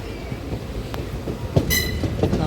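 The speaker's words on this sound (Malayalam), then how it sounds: "അവിടെ ഒരു ട്രെയിൻ കിടക്കുന്നത് AC ഫസ്റ്റ് ക്ലാസ് ട്രെയിനാണ്" A train at Shoranur Junction railway station in Kerala, near and moderately loud, with rumbling wheels, clicks over the rails and a short high squeal partway through.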